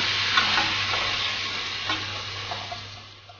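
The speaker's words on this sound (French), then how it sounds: "donc on rajoute maintenant notre fond de veau aux carottes" Veal stock poured onto carrots in a hot pan sets off a steady hiss and sizzle, with light stirring clicks, close and moderately loud over a low hum, no voices.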